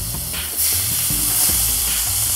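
Raspberries sizzle in very hot butter in a pan, a steady loud frying hiss with a few soft stirring knocks and crackles running throughout, no voices.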